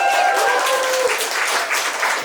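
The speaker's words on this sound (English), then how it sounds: "clap it up" Comedy festival audience applauding a stand-up set, a dense wash of clapping and some cheering from a full room, loud and sustained, with a brief tonal sound at the start.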